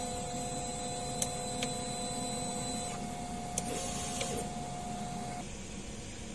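A DTF printer runs its motion check with a continuous mechanical hum and a steady tone. A few faint clicks sound over it at moderate distance.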